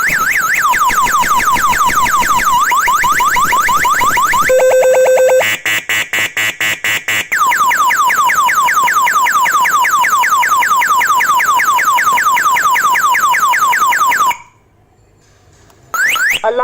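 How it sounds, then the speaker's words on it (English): An MT138 motorcycle alarm system sounds its siren loudly and up close: rapid rising warble sweeps, then a steady tone and a pulsing stutter, then more fast sweeps before cutting off abruptly. "Alarm on. Don't touch the car."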